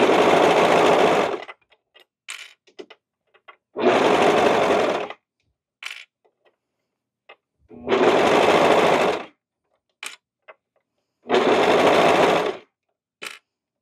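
A serger overlock sewing machine stitches a cardigan in four loud bursts of a second or two each, whirring close by, with quiet clicks and handling noises in the pauses between runs.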